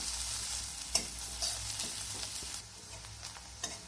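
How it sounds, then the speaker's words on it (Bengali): Onions frying in oil in a pan, a continuous close sizzle with soft stirring scrapes and a few light clicks, no speech. "পেঁয়াজটাকে একটু লাল করে ভেজে নেব।"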